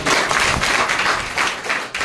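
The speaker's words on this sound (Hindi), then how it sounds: "ग्रेट सर के लिए एक जोरदार ताली" A seminar audience at a direct selling session in Mungeli gives a loud, dense round of clapping that carries steadily for about two seconds, close and full.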